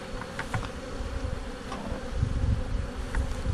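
Angry honey bees from a weak hive buzzing loudly and continuously, a dense close swarm drone with individual bees whizzing past.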